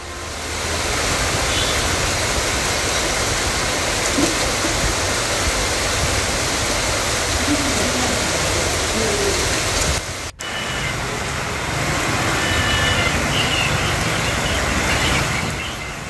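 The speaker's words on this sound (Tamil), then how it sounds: "தமிழ்நாட்டில் உதகை, அவிநாசி, தென்காசி உள்ளிட்ட இடங்களில் பலத்த மழை." Heavy rain pouring down steadily, a dense, loud, unbroken hiss of falling water with no pauses or voices, briefly cut by a tiny dropout partway through.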